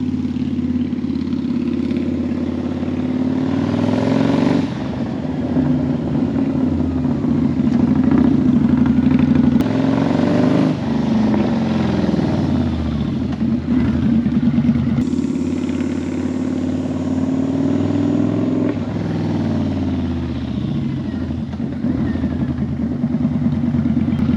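A motorcycle with freshly changed rear brake pads running steadily and loudly nearby, its engine droning with slight rises and falls across the whole stretch and no talking.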